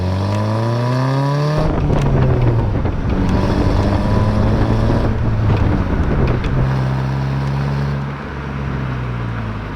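A manual-transmission car pulls away in first gear: the engine note climbs steadily in pitch as it revs, drops back at a gear change, then rises again, loud and close, with heavy wind buffeting throughout and no talk.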